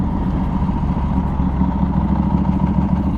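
A Norton Commando 961 SF MK II, a 960 cc air-cooled British motorcycle, idles steadily close by, its low, even engine throb and faint mechanical clatter running unbroken throughout with no one talking.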